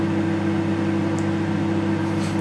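A microwave oven hums steadily and loudly at close range while Pepsi boils inside it, giving a constant drone with a faint crackle or two near the end and no talking.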